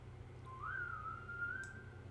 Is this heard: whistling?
yes